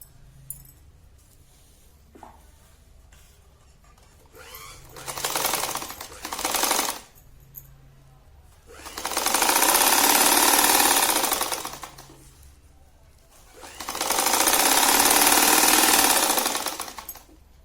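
An electric sewing machine stitching cloth covers for holy books runs in short bursts, first two quick runs, then two long steady whirring stretches of stitching separated by quiet pauses, close and loud with no talking.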